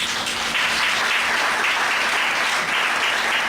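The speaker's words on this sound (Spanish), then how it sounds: "No tenga temor de aplaudir, apláudele a él, no a mí." A church congregation applauds in steady, dense clapping that carries on evenly from start to end, with no talk over it.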